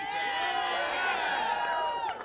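A large crowd at a 2015 Donald Trump campaign rally in New Hampshire cheers and shouts loudly and continuously, a dense roar of many voices filling the space for a couple of seconds.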